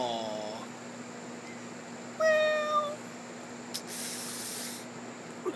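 A pet cat meows a few times in quick succession, close by and fairly loud, over a steady background hum, followed by a brief hissing spray-like burst.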